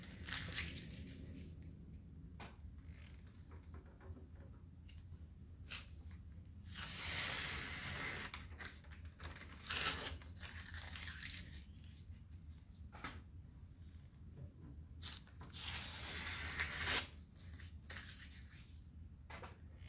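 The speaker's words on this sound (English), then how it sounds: "I'm going to remove the tape." Masking tape peeled slowly off a sheet of paper at an art table, a faint, drawn-out tearing and crackling rasp in several pulls with short pauses, close by and quiet, no talking.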